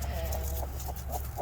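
A broody Java hen in a nesting box makes low, repeated clucking and murmuring calls close to the microphone, over a constant low hum.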